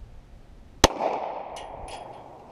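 A single sharp handgun shot at pins on a farm, loud and close, followed by a brief ringing decay and faint clanks.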